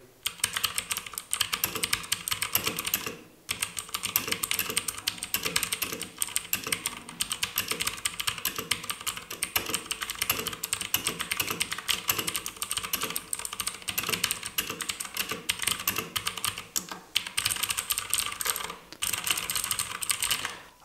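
Rapid, continuous typing on a compact RK61 wireless mechanical keyboard fitted with blue clicky switches, crisp sharp clicks close up in a steady flow with a couple of brief pauses, no talking.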